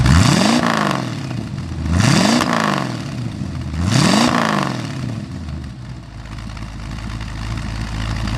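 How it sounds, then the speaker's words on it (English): Car engine revving loudly as the throttle is pressed, three rising-and-falling swells in a regular rhythm, close and strong, settling to a steadier rumble at the end. "It produces all of its torques, and there are many, the instant you touch the throttle."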